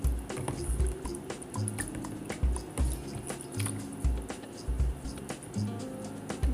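Water drips and splashes in an irregular patter as something is rinsed off in a home kitchen while making black bean and quinoa burgers, fairly quiet and close.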